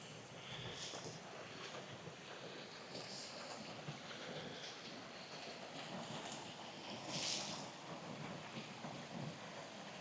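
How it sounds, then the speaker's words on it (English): Stream water runs beside Cringle Reservoir on the Isle of Man in a continuous outdoor rush, mixed with wind noise on the microphone, and no one speaks. "Hopefully you're getting the sound of that water running."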